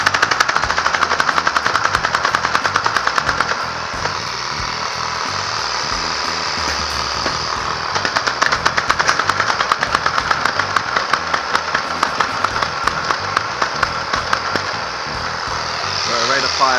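A BoomCo Rapid Madness toy blaster fitted with a compressor mod fires in rapid, rattling bursts over a loud mechanical hum. The bursts slow and thin partway through before picking up again.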